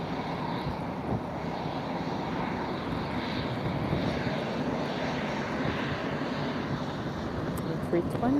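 An easyJet Airbus A320 airliner takes off at Lisbon Airport on a windy, sunny afternoon, its engine roar a steady broadband rumble held at moderate distance across the whole span.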